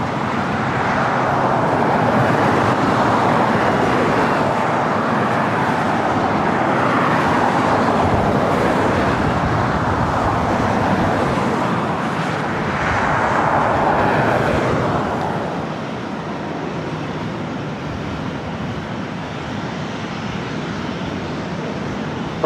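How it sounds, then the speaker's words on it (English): Southwest Airlines Boeing 737-700 on its takeoff roll at LAX, a broad, loud jet roar swelling and sweeping over several seconds before easing to a steadier, slightly quieter rumble as it climbs away. "This next takeoff is Southwest Airlines 174, taking off to Sacramento on a"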